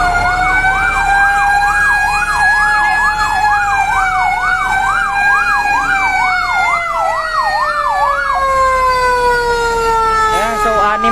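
Fire truck sirens wailing loud and close at a house fire in Pasay City, a rapid yelping tone over a steady drone, then a slower rising and falling wail near the end.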